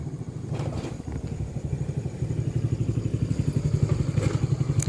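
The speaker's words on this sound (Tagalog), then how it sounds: "Ayan, merong ano, motor" A motorcycle engine runs steadily nearby, its low, rhythmic pulsing throbbing under a faint background and growing slightly louder over a few seconds as it passes.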